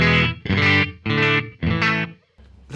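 Distorted electric guitar played through Xvive mini effects pedals plays a few loud, chorused chords in a choppy rhythm, each hit ringing briefly before stopping, with no reverb and no voices.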